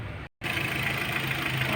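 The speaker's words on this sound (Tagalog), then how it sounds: "kailangan lang natin paandarin yung makina" A steady engine idles with a low, even rumble and hum, briefly cut out for a moment before resuming.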